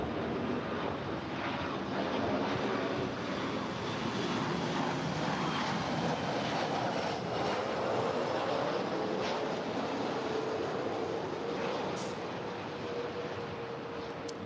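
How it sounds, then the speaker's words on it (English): A Virgin Atlantic Boeing 787-9 Dreamliner takes off at LAX, a continuous broad roar of jet engines heard from a distance that holds steady throughout. "this is Virgin Atlantic Flight 8 heading to London. It's a 787-9 Dreamliner"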